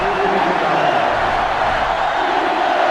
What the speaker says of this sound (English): They're really struggling now as this crowd is going absolutely insane